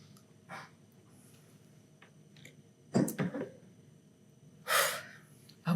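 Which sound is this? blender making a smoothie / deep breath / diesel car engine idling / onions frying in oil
deep breath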